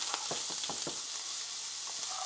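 Chicken, veggies and rice sizzle in a hot stir fry pan, a steady bright hiss broken by a few quick scraping stirs, with no talking.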